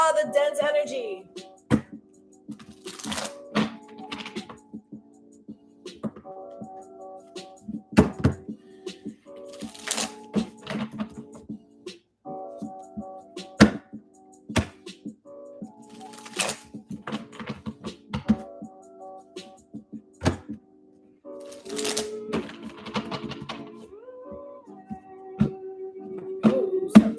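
A Light Seers Tarot card deck is shuffled by hand in short, scattered bursts of crisp riffling and tapping clicks, spread unevenly over nearly half a minute against a quiet background hum.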